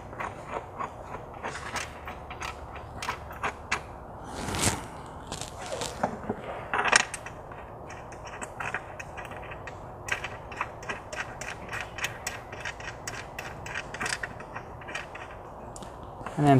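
Tightening 16 mm screws on a VW MK7 GTI coilover strut produces rapid ratchet-like clicks and creaks in irregular bursts, close and moderately quiet, with a few louder knocks along the way.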